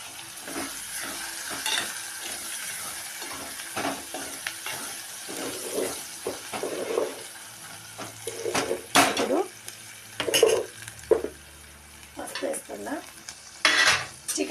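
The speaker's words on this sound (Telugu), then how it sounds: "ఇదైతే వేగుతుంది కదా ఇప్పుడైతే పచ్చివాసన వేయింది కదా కొత్తిమీర అయితే వేస్తున్నా కొంచెం" Rice with turmeric and coriander frying in a pan, a steady sizzle broken up by scraping stirs and clinks of a spoon against the metal, with no voices.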